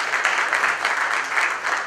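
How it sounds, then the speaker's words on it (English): Audience applause at a corporate tech-day event greets a speaker: dense, even clapping from a crowd, moderately loud and continuous for the short stretch with no clear talk over it. "Let's give a round of applause to Mr. Dhawan."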